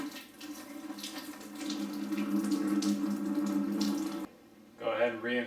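Coolant pours from the water pump bolt hole of a KTM 300 XC dirt bike in a steady, close, resonant gurgling stream. It cuts off briefly near the end, then a short burst of sound follows.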